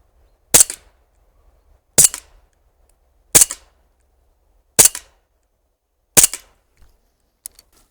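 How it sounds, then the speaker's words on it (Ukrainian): A Sig Sauer 1911 CO2 4.5mm air pistol fires five sharp, evenly spaced shots at a target, each a crisp, loud crack with quiet between, and no speech. "І зігзауер теж 5 пострілів по правій мішені."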